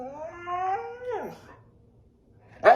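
A dog lets out a wavering, rising-and-falling howl that trails into a whimper, then a short silence, then a sharp yelp-like sound at the very end, close by.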